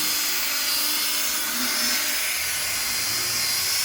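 A power drill buffs polish into a sanded headlight lens using a DIY headlight restoration kit, giving a steady, close, high-pitched whir that runs continuously and alone.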